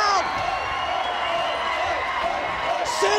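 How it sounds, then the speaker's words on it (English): A wrestling arena crowd at a Slammiversary match, a dense, steady roar of cheering and shouting heard under an excited commentator's voice. "Listen to this crowd."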